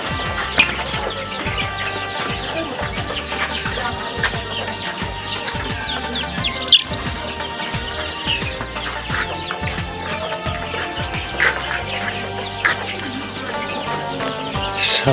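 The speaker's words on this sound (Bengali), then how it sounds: "লেয়ার মুরগিগুলো" Flock of 18-day-old layer chickens in a brooding house, clucking and chirping steadily up close with occasional wing flaps and louder squawks, no voices.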